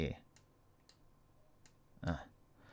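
Computer mouse clicks while right-clicking to copy and paste in a spreadsheet: a few sparse, sharp, quiet clicks spaced apart, with one louder click-and-rustle burst near the end, in a quiet room.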